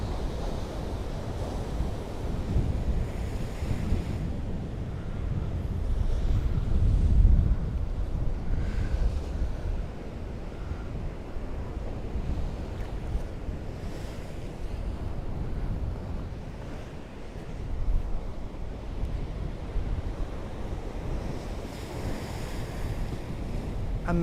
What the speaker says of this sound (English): There's a photographer right here where the water washes in into the channel.